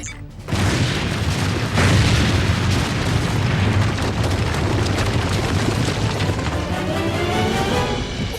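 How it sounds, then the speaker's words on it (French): A loud, sustained burst of fireworks in a French-dubbed Transformers Prime animated episode, a dense roar of booms and crackles opening with a sharp onset and staying thick and near for the whole stretch. "Attention, prêt à admirer le feu d'artifice"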